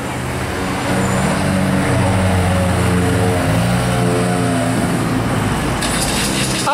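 A McLaren sports car drives past on a street in Juan-les-Pins, its engine note rising and falling as it goes by close and loud over steady traffic noise.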